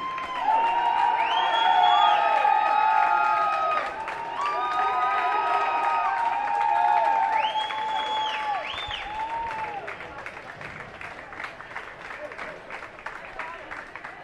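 At a state high school water polo tournament in an aquatic center, teams shout a cheer together after the game, with loud overlapping yells, whoops and applause that fade into scattered clapping and voices.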